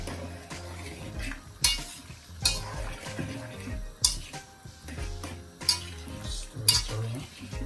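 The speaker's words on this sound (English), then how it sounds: "I'm just going to give that a stir now" A spoon stirs tomatoes and Irish potatoes into Jamaican-style brown stew chicken in a pot, giving repeated loud metallic scrapes and clinks against the pot at an uneven rhythm, close up, over soft background music with no voices.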